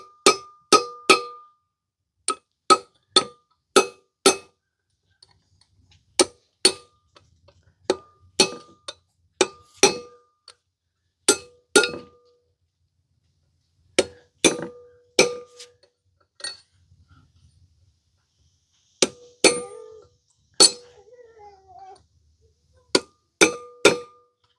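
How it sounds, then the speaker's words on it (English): A hammer drives a punch to seat wheel studs on an antique Ford F350 truck: sharp, ringing metallic strikes in quick bursts of two to four blows, separated by short quiet gaps, close and loud with no talk. "Just take a hammer and a punch."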